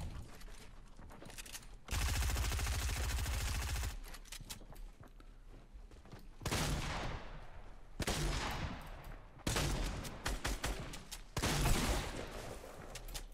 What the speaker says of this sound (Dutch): Er is hier ergens een enemy. En ik hoor hem schieten.